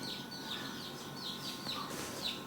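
A native village hen (ayam kampung) with her newly hatched chicks makes soft, faint clucks, while thin high peeps repeat at a modest distance.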